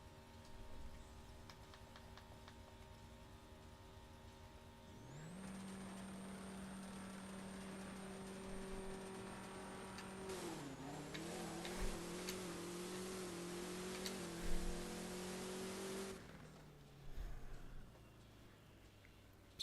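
A Plymouth Superbird makes a drag racing pass, its engine rising steadily in pitch through the gears with a brief dip at each shift, loud and sustained before cutting off and fading.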